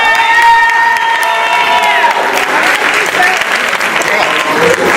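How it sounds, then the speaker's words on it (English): An audience at a gospel church assembly claps and cheers in a dense, continuous wave. Sustained musical tones ring under the clapping at first. "Yes, give a round of applause."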